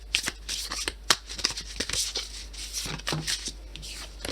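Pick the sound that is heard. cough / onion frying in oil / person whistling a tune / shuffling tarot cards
shuffling tarot cards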